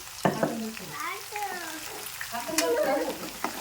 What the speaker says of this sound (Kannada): ನೋಡ್ರಿ ಬೆಳ್ಳುಳ್ಳಿ ಫ್ರೈ ಆಗ್ತಾವ್ರಿ